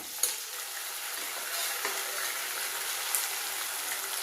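Leftover chicken curry is poured into a hot pan and hisses with a continuous soft sizzle and bubbling. A few small clicks of utensils break through near the start and again later, with no talking.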